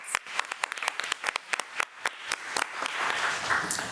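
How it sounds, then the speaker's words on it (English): Scattered applause at a school board committee meeting honoring a teacher: individual claps from a modest gathering, distinct at first, then merging into a denser, softer patter toward the end, with no speech. "let's give Ms. McMillan another round of applause."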